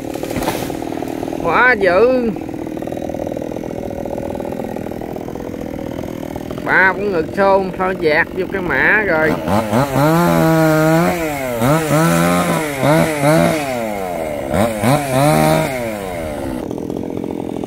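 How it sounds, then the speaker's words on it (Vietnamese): A chainsaw cuts a tree on a burial mound, its engine whining and revving in long rising and falling bursts close by, with a person talking over it at the start. "Cưa cây ngay trên cái mã luôn nè."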